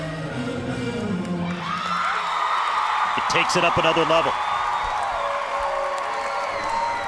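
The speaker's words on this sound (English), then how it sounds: "So easy to be charged up by a crowd like this." A crowd at a Mizzou at Auburn college gymnastics meet cheers and shouts loudly, swelling into a sustained roar with whoops, while a commentator talks over the noise.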